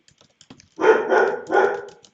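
Dogs barking indoors: three loud, close barks in quick succession, preceded by a few faint clicks.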